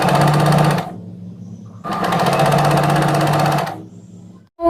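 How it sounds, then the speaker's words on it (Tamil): A sewing machine runs fast and steadily while stitching the lining and main fabric of a V-neck blouse together, in two close, loud bursts separated by a short pause. "இப்போ நம்ம இது ஃபுல்லாக வந்து லைனிங்கையும் மெயின் ஃபேப்ரிக்கும் ஒன்றா சேர்த்து ஸ்டிச் பண்ணிட்டோம்"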